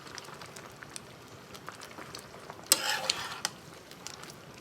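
Mango pickle simmers and sizzles in a pan, a soft continuous bubbling hiss with a short, louder burst of stirring or spattering partway through.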